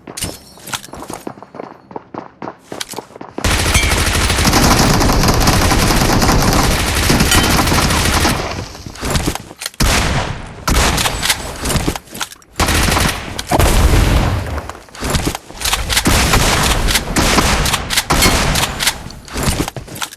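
Dense bursts of automatic gunfire from the mobile battle royale PUBG Mobile, sustained and loud with short pauses between volleys, after a brief stretch of scattered shots and footsteps.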